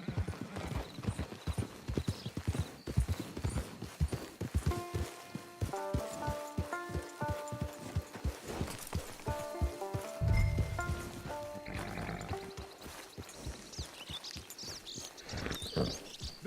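Horse hooves clip-clop steadily in the Red Dead Online video game, a close, rhythmic trot-to-gallop that carries on throughout, with a brief whinny and light rain and musical tones behind it.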